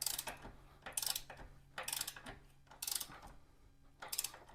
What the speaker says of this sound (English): I'm going to use my Tecton 1/2-inch drive torque wrench, And we're going to torque this down to 45 foot-pounds